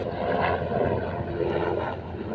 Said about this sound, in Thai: มองไปเห็นชัดมากโอ้ยเครื่องบินทหาร เครื่องบินทหารจ้ะ